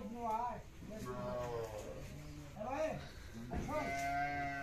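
A Sahiwal-breed calf moos repeatedly at a cattle market, a few drawn-out bellowing calls close by, with faint crowd noise in the background.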